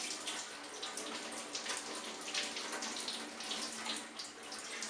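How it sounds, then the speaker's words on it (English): Lukewarm tap water runs steadily over a frozen cucumber, a continuous hissing, splashing stream, close and alone. "Simply run the cucumber under some lukewarm water for a minute at most"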